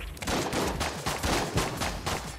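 Rapid gunfire from a revolver in the video game Enter the Gungeon, a dense, steady run of loud, close shots with brief irregular gaps, and no talk over it.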